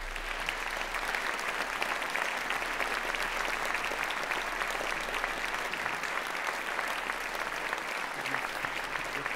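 An audience in a theater applauds steadily and warmly for a physics speaker, a dense, even wash of clapping that holds at a constant level throughout with no voices over it.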